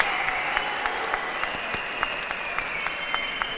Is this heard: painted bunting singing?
no